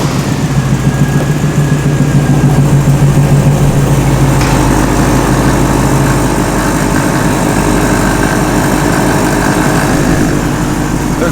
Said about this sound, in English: They're quite a bit quieter than the old compressors